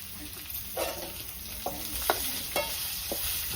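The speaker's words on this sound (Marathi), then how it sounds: "कांदा द्यायचा चांगला सुपीत तळून घ्यायचा" Chopped onion frying with dried fish (sukat) in a pan, a continuous hiss of sizzling oil punctuated by several sharp scraping stirs of a spatula, fairly close and without talk.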